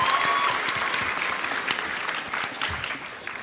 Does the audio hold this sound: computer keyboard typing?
no